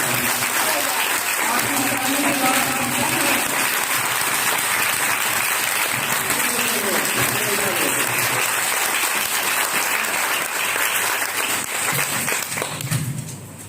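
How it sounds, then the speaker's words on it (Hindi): A church congregation on Palm Sunday claps loudly and continuously, a thick roar of hands that holds steady for over ten seconds before easing off at the end, with some voices underneath. "मैं चाहता हूँ कि अपने लिए एक दफा जोरदार ताली बजाएं।"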